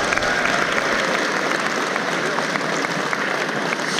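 A live audience applauds to welcome a speaker onto the stage, a dense, close burst of clapping that holds steady throughout.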